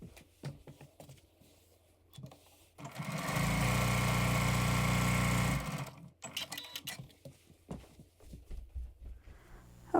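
A sewing machine runs in one steady, loud burst of about three seconds while stitching a quilt block in stitch-and-flip foundation piecing, with quieter handling taps and fabric rustles before and after.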